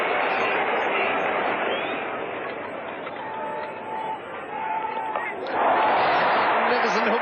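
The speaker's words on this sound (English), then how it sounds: "The West Indian crowd on their feet" West Indian cricket crowd at Lord's roaring after Lloyd's hook shot in the 1975 World Cup final against Australia: a dense, sustained wall of cheering that swells louder near the end, with commentary over it.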